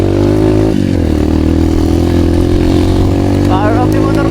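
A motorcycle engine runs loudly and steadily on a trail in Palawan, a constant close-up droning rumble with some rattling, ending with a brief shift in tone.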